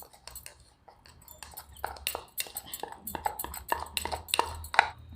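A spoon clinks and scrapes against a small bowl while stirring pepper powder into a home cough remedy, a run of light irregular taps and chinks, close and fairly soft, with faint breathy sounds in the background.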